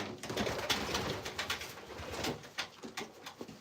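A show-loft pigeon coos softly up close while being handled, its low throaty coos repeating among rustling and light fluttering.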